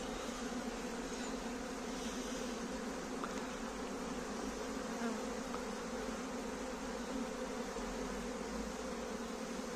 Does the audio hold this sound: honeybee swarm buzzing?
yes